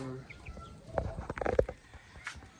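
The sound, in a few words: young chick chirping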